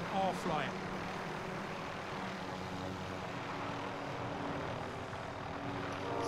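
A steady aircraft drone hums throughout, a helicopter in a battle royale video game, heard fairly faint and constant with a low rotor-like rumble and no clear talk over it.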